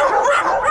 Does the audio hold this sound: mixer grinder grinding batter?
no